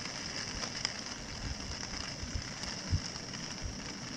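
Steady rain patters on a wilderness campsite at a Boundary Waters lake, an even soft hiss with scattered close drips and taps and no voices.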